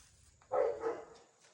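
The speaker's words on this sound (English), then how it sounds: "If you like dog barking, my dogs are putting on one hell of a show." A dog gives two quick barks close by in a quiet workshop, the pair of short yaps standing out briefly against faint background noise.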